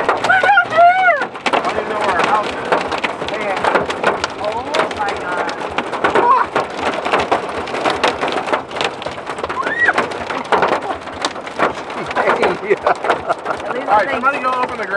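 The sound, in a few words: hail hitting a car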